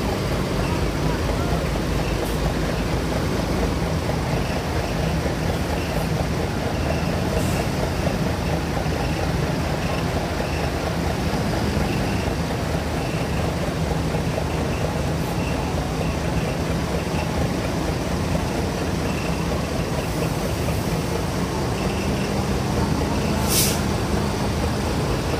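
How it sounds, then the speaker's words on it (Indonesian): Bus departing a bus terminal as the coach pulls out full, a loud steady engine rumble with a brief hiss of air brakes partway through, heard alone amid constant terminal background noise. "nampaknya ada satu armada yang mulai berangkat karena sudah penuh"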